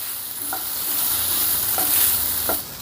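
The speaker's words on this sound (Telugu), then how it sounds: "ఇప్పుడు ఇందులోనే ఒక రెండు టేబుల్ స్పూన్లు నువ్వులు కూడా వేసుకుందాం ఇప్పుడు ఈ మొత్తాన్ని ఒక నిమిషం పాటు ఫ్రై చేసుకుందాం" Two tablespoons of sesame seeds stirred and fried in a pan for a dosakaya-potato masala curry: a loud steady sizzle with three scraping stirs of the spoon, no talk.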